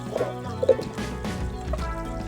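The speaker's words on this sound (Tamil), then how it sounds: "அண்ட் கொஞ்சம் தண்ணி லைட்டா ஆட் பண்ணிக்கலாம்" Water trickles and splashes lightly into a mixer grinder jar holding ground spices for a village-style mutton kurma, with soft intermittent drips and gurgles close by.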